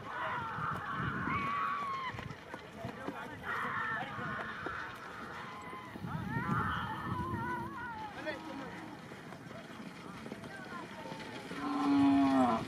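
Bulls low and moo several times amid a busy outdoor crowd at a horse and bullock-cart race ground in Nagarsul, Yeola, with voices and shouting mixed throughout and a louder call near the end.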